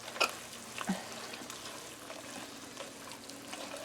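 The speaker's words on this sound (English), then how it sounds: "you're gonna melt down the cream cheese into the bacon grease and garlic" Cream cheese melts into bacon grease and garlic in a pan for a bacon pierogi bake, giving a soft, steady sizzle and faint bubbling throughout with a couple of brief clinks near the start, and no talking.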